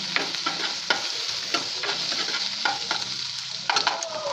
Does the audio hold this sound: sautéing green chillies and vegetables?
yes